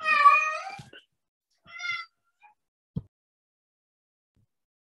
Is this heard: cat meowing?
yes